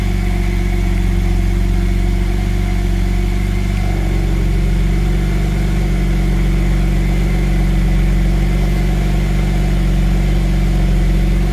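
A Noble M12 GTO-3 idles with its exhaust valve open, a loud, steady, deep engine rumble that holds an even pulse throughout, with a slight shift in tone partway through and no voices.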